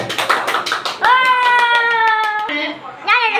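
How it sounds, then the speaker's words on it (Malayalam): Hands clap in a quick, dense burst at a family wedding-anniversary surprise, then a sustained tonal voice-like sound takes over with scattered taps, and a voice is heard. "കൈയടിക്കേ"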